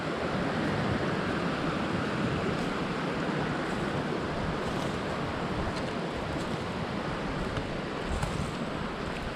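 Water runs steadily along a wilderness brook on the Caribou Speckled loop, a dense unbroken rush that sounds close and fairly loud, with no talking.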